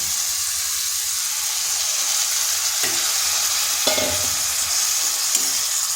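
Bowl-rinsing water poured into a pan of frying cabbage, a constant hissing sizzle with a few sharper bursts as the liquid hits the hot pan, close and loud, no talking.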